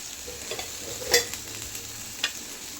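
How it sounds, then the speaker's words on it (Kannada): Curry leaves and crushed garlic fry in a spoonful of oil in a pan, giving a soft, steady sizzle with a couple of sharper scrapes or stirs. It is close and fairly quiet, with no talking. "ಒಂದು ಸ್ವಲ್ಪ ಎಣ್ಣೆ ಹಾಕಿ ಕರಿಬೇವು, ಬೆಳ್ಳುಳ್ಳಿ ಸುಟ್ಟು ಹುರ್ಕೊಳನ್ರಿ."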